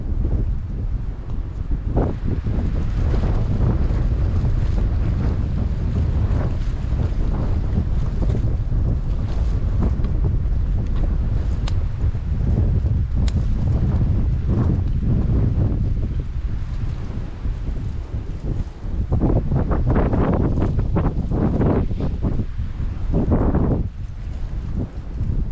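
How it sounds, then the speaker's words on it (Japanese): Strong gusting wind roars steadily outdoors in the mountains, buffeting the microphone with loud low rumble throughout and sharper gusts near the end. "風が強い。"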